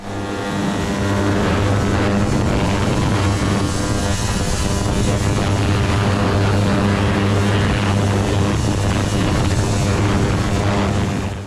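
A parts-cleaning hot bath runs with a loud, steady mechanical drone and dense whirring buzz, unbroken throughout, like a machine churning liquid nearby.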